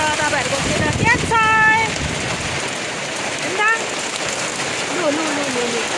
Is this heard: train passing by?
no